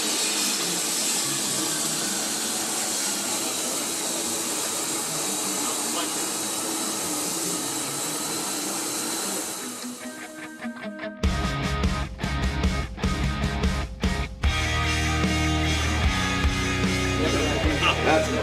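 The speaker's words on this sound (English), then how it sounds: "I'm going to be cutting 1/4-inch wall square tubing. We're going to do it with our traditional bonded abrasive cutoff method." A bonded abrasive cutoff saw grinds through 1/4-inch wall square steel tubing, a loud steady roar for about ten seconds that dips, then gives way to harsher, choppier cutting noise with sharp bursts to the end.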